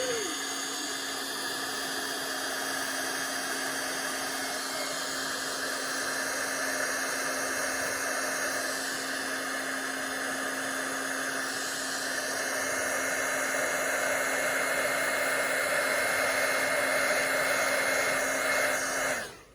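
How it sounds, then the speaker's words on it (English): An embossing heat tool blows hot air in a steady, unbroken whoosh with a faint constant hum, running close and fairly loud for the whole stretch while card tags are heat-embossed at a craft table. "Let's get out the heat tool before I send it through the Big Shot."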